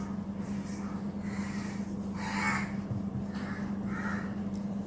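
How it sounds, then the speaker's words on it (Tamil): A crow caws several times at a distance over a steady low hum, the calls spaced irregularly and fairly faint, heard in a home kitchen. "காக்கா கத்தி என்னை டிஸ்டர்ப் பண்ணுது பார்த்தீங்களா"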